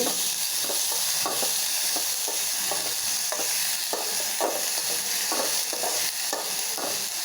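Black cumin (nigella) seeds dry-roast in a pan, with a soft steady sizzle and the rhythmic scrape of a spatula stirring them every half second or so, close and with no talking.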